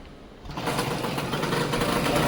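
A restored 1992 TVS Express 35 moped engine kicks into life and settles into a steady, buzzing idle, close and fairly loud, running alone after a brief quiet start.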